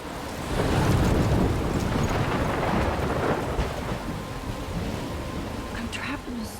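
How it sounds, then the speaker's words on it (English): A thunderstorm in the video game Life is Strange, a deep rumbling roar of wind and rain that swells early and slowly eases, loud and enveloping, with a voice speaking over it. "I'm trapped in a storm?"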